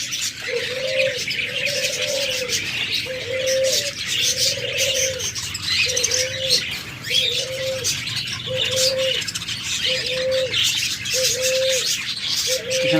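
A pair of lutino pet birds gives a run of about ten short, repeated calls in an even rhythm, clear and close over a busy background hum.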